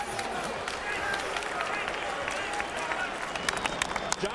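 Applause and crowd noise fill a boxing arena at the end of a round in the Glenn Johnson versus Dawson fight, scattered claps rising over a murmuring audience while commentators talk.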